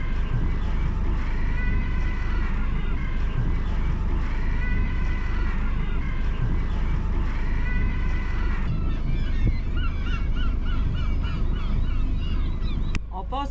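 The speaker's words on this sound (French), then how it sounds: "Ceux-là, c'est des petits pingouins." Razorbills call near a boat in the Mingan archipelago: repeated groaning, honking calls in spaced bursts over steady wind and engine rumble, followed by a busier flurry of overlapping cries.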